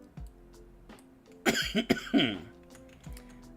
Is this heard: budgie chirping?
no